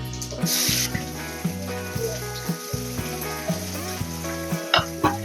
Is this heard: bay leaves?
yes